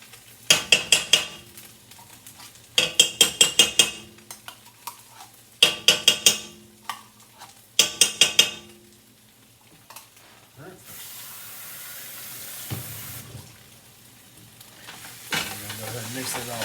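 Beef frying in a pan for keto Japanese curry, stirred in four bursts of scraping and clattering over a steady sizzle, then a longer stretch of frying hiss with a few final stirs.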